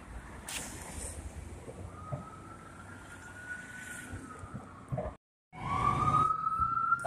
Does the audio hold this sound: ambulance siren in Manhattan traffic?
yes